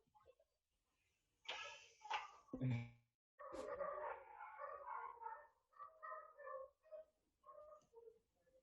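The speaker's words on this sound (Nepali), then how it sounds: "कुकुर पनि भुकिरहेछ।" A dog barks a few times nearby, sharp bursts followed by a stretch of people talking in the background.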